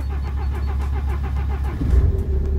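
A car engine runs on its first start after a new timing chain, with the downpipe open. It gives a steady, loud idle drone that swells briefly near the end, with no voices.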